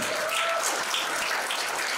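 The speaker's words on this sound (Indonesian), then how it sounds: "Tepuk tangan." A short burst of dense clapping from a church congregation during a sermon, steady and fairly distant, with no talk over it.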